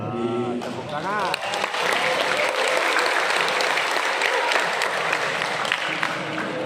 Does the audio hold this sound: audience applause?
yes